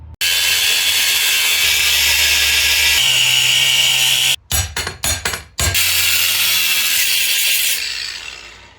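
A loud power saw grinds steadily through metal front suspension parts on a Jeep Grand Cherokee WK, stopping and restarting in a few short bursts before winding down.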